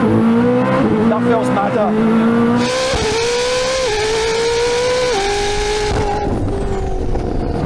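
A Koenigsegg Jesko hypercar accelerates hard with its 9-speed transmission shifting in auto mode, the engine note climbing in steps as gears change quickly, loud and close, with brief talk over it.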